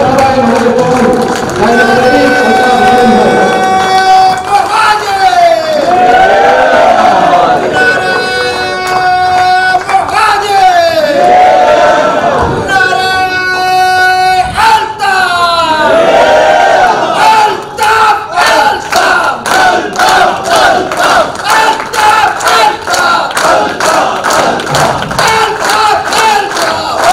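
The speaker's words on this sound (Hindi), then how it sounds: "तो भरपूर तालियों में भरपूर इस्तकबाल कीजिए" A large crowd at a political foundation-day gathering roars and chants together in loud, sustained waves of shouting that rise and fall for nearly half a minute, with no clear speech over it.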